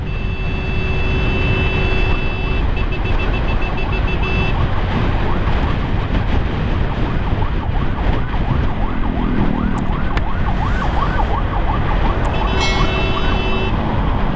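An ambulance siren wails loudly and continuously right nearby, heard from an escorting motorcycle between Bukittinggi and Padang, its rising and falling tone over heavy road noise and engine rumble.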